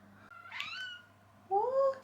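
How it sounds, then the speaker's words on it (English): A pet cat, a demanding young female, meows twice up close, a short rising meow followed by a louder, drawn-out one, in a quiet indoor room with a low background hum. "I'm being interrupted by a cat."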